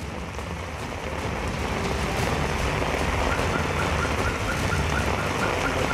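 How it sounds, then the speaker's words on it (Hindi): Heavy rain mixed with hail falls without pause during a storm, a dense close hiss of drops and pattering impacts at steady loudness. "जबरदस्त बारिश, न सिर्फ बारिश बल्कि बारिश के साथ जबरदस्त ओले भी यहां गिरे।"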